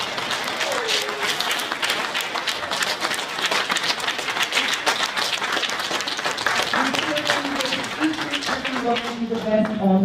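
A crowd claps steadily for mayoral candidates at a Birmingham forum held at the FOP hall, with dense, continuous applause throughout and some voices and cheering rising toward the end.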